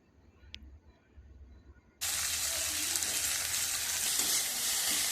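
Chopped onions hit hot oil and burst into a loud, continuous sizzle that starts abruptly and keeps going steadily, close up, with no talking.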